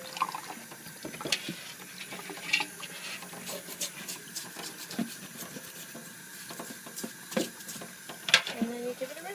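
Water runs and splashes while a baseball hat is rinsed under a tap, a steady close patter with irregular louder spatters throughout.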